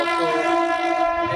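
A train's horn blares at Dadar railway station platform, a loud sustained tonal blast rich in harmonics lasting over a second, close by and alone.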